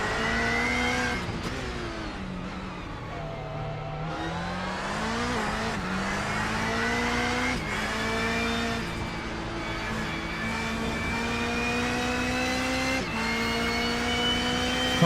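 Race cars in a NASA club race at Charlotte brake hard and accelerate, engines rising and falling through gear changes, loud and steady throughout.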